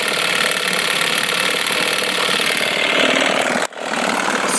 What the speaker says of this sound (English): 6 horsepower, back to life.